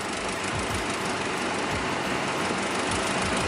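A Honda Accord CD5 engine idles roughly after being revved, a dense, uneven rumble with faint pulsing in the low end, steady and close, with no voices.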